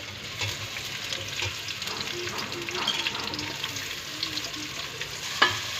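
Chopped onions and cumin seeds fry in oil in a pan, a soft continuous sizzle with occasional stirring scrapes and one sharp utensil knock near the end, no one speaking.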